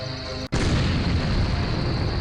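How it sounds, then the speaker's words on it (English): A large mortar fires in the video game Journeyman Project 2, a sudden heavy boom after a brief hush, followed by a loud, sustained rumbling roar that fills the rest of the moment. "That's a large mortar."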